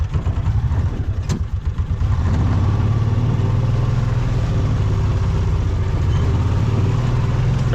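A Kawasaki Mule side-by-side churns through a muddy field in 4-wheel drive. Its engine idles unevenly at first, then settles into a loud, steady mid-pitched drone that holds close and continuous, with no talk.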